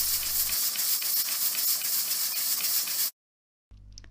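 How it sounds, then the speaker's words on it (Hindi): A pressure cooker of carrots letting off steam, a loud steady hiss close by that cuts off abruptly, followed by a short silence and a faint return of the hiss. "प्रेशर हमने रिलीज़ किया और इसका लिड खोला।"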